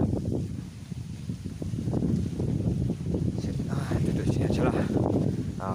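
Gusty wind buffets the microphone at an overpass construction site, rumbling and rustling unevenly throughout while someone talks over it.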